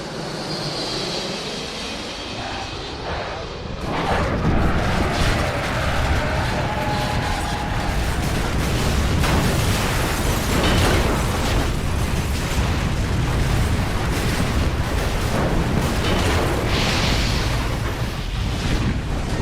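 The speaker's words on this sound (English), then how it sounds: "Insert the sound of a plane going down," A loud, sustained roaring rumble with crackling bursts, building after a brief quieter opening and continuing densely throughout, like an airplane crashing and exploding.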